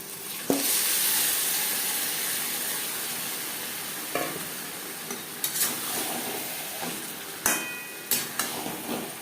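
Marinated chicken frying with onions in a hot pan, a steady loud sizzle with occasional sharp clacks and scrapes of a utensil against the pan, several quick knocks near the end.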